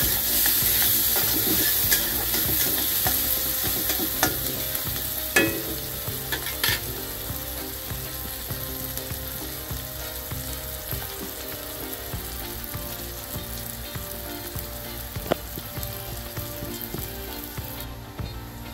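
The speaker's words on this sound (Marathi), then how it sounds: "हे छान परतून घ्यायचं, कांद्याचा कलर चेंज होईपर्यंत कांदा छान भाजून घ्यायचा।" Chopped onions fry in a pan for a Maharashtrian dry shrimp dish, a continuous dense sizzle with occasional spatula scrapes and taps, close and loud, with no talking.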